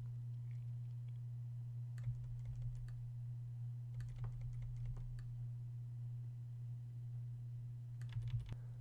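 Computer keyboard keys pressed while editing in Photoshop: scattered clusters of soft, close clicks over a steady low electrical hum, with no talking.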